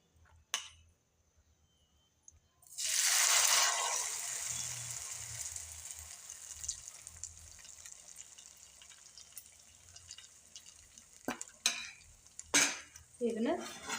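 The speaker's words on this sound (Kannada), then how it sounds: "ನೋಡಿರಿ ಈಗ ಎಣ್ಣೆ ಹಾಕೀನಿ, ಮತ್ತು ಹಿಟ್ಟು ಕಾರಿಸಿ ಹಾಕ್ಯಂತ ನೋಡಿರಿ." Oil and bun dosa batter poured into a hot pan: a sudden loud hiss that fades into a steady sizzle, with scattered utensil clinks and scraping toward the end.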